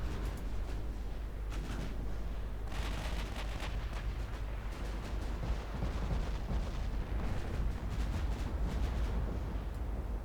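Battleship casemate guns keep firing in a naval battle of the Ultimate Admiral Dreadnoughts game, producing a dense, continuous roar of overlapping booms with no clear pauses between shots.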